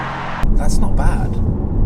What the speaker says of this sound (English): You can still hear the V8, but now I've turned the valve shut, meaning that it's in quiet mode